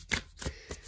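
Tarot cards being shuffled by hand, giving a few quick papery riffling bursts that are close and fairly soft, with no talking over them.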